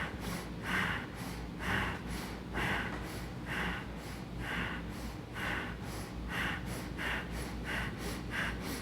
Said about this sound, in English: We're gonna take that breath of fire